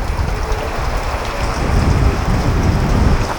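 Heavy typhoon rain pours down in a dense, steady hiss while strong wind roars through it, swelling louder partway through.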